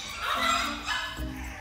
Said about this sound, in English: These are gorgeous little puppies.